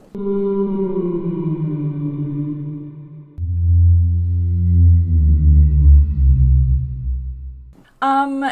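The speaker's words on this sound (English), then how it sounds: "No, that's the sound of a whale." Long, sliding tonal calls like a whale's, one after another, deep and resonant, ending with a short higher-pitched cry.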